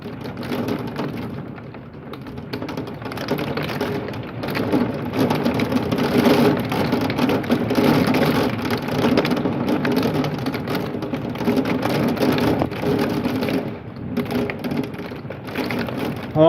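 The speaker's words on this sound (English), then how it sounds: "Yeah, it's hailing. Listen." Marble-sized hail and heavy rain pound down during a severe thunderstorm, a dense, loud, continuous clatter and hiss that swells and eases slightly but never stops.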